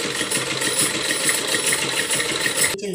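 A sewing machine stitching cloth for a handmade hand fan, running in a fast, even mechanical whir with rhythmic pulses, close and steady until it stops abruptly near the end.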